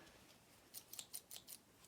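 Tin snips from a tool haul snipping in a quick series of about six short, crisp metallic cuts, fairly close and alone after a quiet start.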